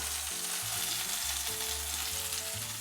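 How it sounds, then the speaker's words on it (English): Prawns fry in a pan with curry leaves over a low flame, a steady close sizzle and crackle with the low hum of the burner running underneath, and no voices. "We'll fry our prawns in batches, so 3 at a time"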